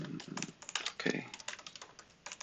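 Quick, continuous typing of JavaScript code on a computer keyboard, a close, rapid patter of key clicks with a brief murmur of speech at the start.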